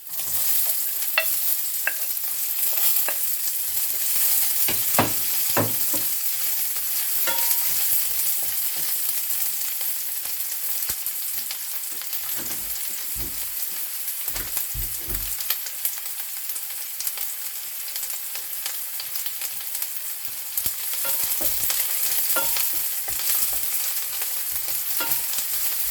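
Onions and garlic fry and sizzle in a home kitchen pan, a steady close crackle broken by repeated scrapes and knocks of stirring, with no talking.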